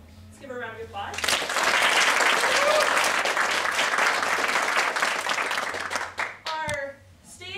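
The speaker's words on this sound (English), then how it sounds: "Let's give her a round of applause" Theatre audience applauding the makeup artist, a dense burst of clapping that swells and holds for several seconds, then thins out, with voices speaking briefly before and after.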